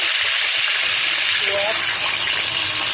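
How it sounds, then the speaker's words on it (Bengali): Whole garam masala hits hot oil and sizzles loudly, a dense close crackle that holds steady throughout while a voice murmurs faintly underneath. "এখন এই তেলটাতে আমি দিয়ে দিচ্ছি গরম মশলাটা"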